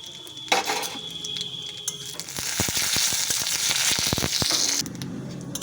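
Cumin seeds and dried red chillies fry in hot oil in a wok, a close bright sizzle with a burst of rapid crackling and popping in the middle, plus a few metal stirring clinks.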